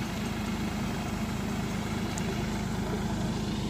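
A tractor engine idles steadily close by while running for spraying a cattle shed. It makes a deep, even, continuous rumble with no talk.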